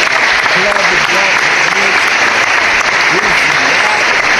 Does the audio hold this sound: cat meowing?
no